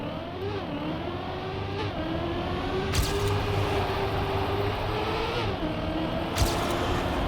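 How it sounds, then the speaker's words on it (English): A car drifts through a tight turn in Trackmania, its engine droning steadily with rising and falling pitch, tire noise underneath and a couple of sharp clicks. "Okay, that's like a really tight drift"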